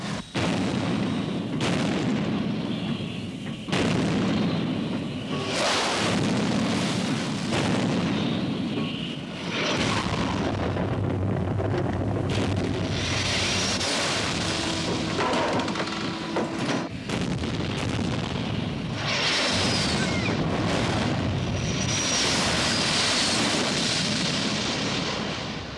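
Anti-aircraft guns on a warship firing at attacking aircraft, a dense, loud barrage of booming bursts and rolling thunder that keeps going throughout, with sharper cracks and fading rumbles between the salvoes.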